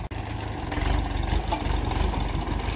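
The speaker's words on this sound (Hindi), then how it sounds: "तो भैया ट्रैक्टर घुमा रहे हैं" A tractor engine runs steadily at close range in a farm field, a low idling rumble with a slight rhythmic throb that holds for a few seconds and rises a little midway, with no talk over it.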